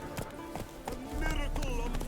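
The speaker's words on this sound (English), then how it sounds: "A miracle on 4 hooves. Look at that horse." Horse hooves clip-clop in a steady trotting rhythm in The Witcher 3 video game, moderately close, with a voice talking over them.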